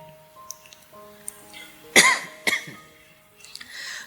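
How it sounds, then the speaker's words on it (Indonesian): A person gives two sharp coughs close by, a strong one followed by a shorter one, with softer throat noises before and after in a quiet indoor space. "Batuk kayak gini terus mikir, ini jangan-jangan paru-paru saya."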